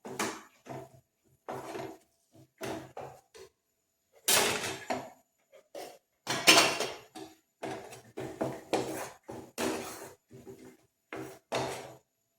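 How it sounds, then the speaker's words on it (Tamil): A spoon stirs and scrapes spice powder through hot oil in a pan with the stove off, while making tomato pickle, giving a series of short, irregular scraping clatters separated by brief silences. "அடுப்பை ஆஃப் பண்ணிவிட்டு அந்த சூடான எண்ணெயிலே போட்டு கிண்டி விட்டுரும்"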